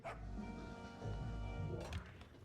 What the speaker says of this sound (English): Why do I keep hearing dog noise?